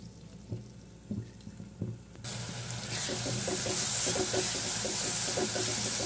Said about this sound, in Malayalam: നമുക്ക് ഈ അരിഞ്ഞു വെച്ച സവാള ഇട്ട് കൊടുക്കാം.